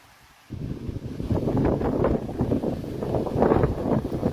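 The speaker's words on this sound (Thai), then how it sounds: "ลมแรงมากจริงๆเลย ลมแรงเหมือนอย่างพายุ" Strong, storm-like wind roars across the Phu Hin Rong Kla rock field in the national park, buffeting the microphone in steady heavy gusts after a brief quiet start.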